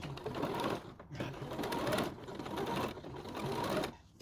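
A sewing machine runs in steady bursts as it stitches close along the seam of a little girl's dress, a near, even mechanical whir with brief pauses between runs.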